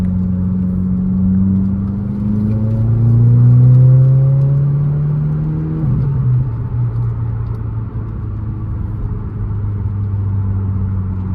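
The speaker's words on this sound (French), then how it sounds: "Là, on entend l'accélération, on peut changer les vitesses au son" A 2023 Subaru WRX VB with its muffler deleted accelerates steadily, pitch climbing, then drops at a gear change and settles into a loud, droning exhaust rumble heard from inside the car.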